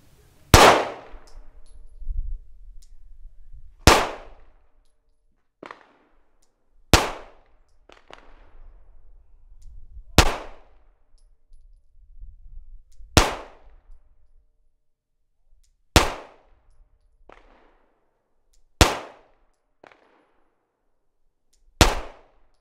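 A Glock 19 pistol with a standard 4-inch barrel fires Polycase Inceptor ARX ammunition: about eight sharp, loud, close gunshots spaced roughly three seconds apart, each ringing out briefly over a faint low rumble.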